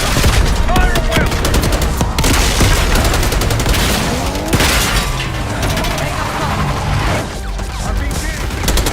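Call of Duty Black Ops 6 gunfire during an assault on a palace gate, heavy continuous bursts and overlapping shots with booms and cracks, loud and dense throughout, with voices calling out beneath the battle.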